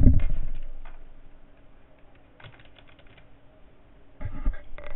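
Keys clatter on a computer keyboard in two short bursts of quick, light typing separated by a quiet pause, with no voices.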